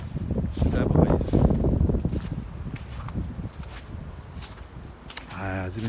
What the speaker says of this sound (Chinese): 我这个镜头晃得厉害，而且风很大